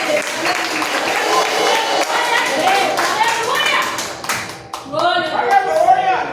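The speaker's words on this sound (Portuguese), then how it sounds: "as palmas agradecem o nosso Deus" A church congregation claps in thanks to God, sharp hand claps in a loose, uneven rhythm, mixed with raised voices that carry through the whole stretch and grow louder near the end.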